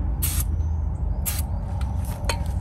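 Short hissing bursts of lithium grease aerosol spray, two or three quick sprays close by over a steady low background hum, during servicing of a Honda outboard motor's lower unit.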